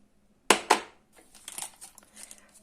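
A packet of baking powder is torn open and its contents added to cookie dough made with oil, yogurt and eggs, giving two sharp crinkling rips followed by softer rustling and pouring, close and without talk.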